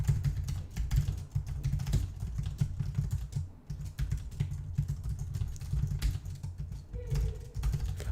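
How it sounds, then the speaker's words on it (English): Rapid typing on a computer keyboard during a competitive coding match: a dense, steady patter of close keystroke clicks with no one talking. "you shouldn't look at the keyboard when you're typing"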